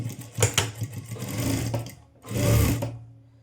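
A sewing machine stitches a blouse in two bursts of rapid mechanical whirring, a longer run followed by a short pause and a second shorter run, close and clear.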